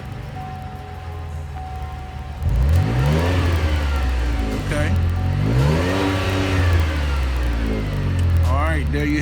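A car engine cranks, catches and revs up and down several times, loud and close after a short quiet idle, with a brief spoken word near the start.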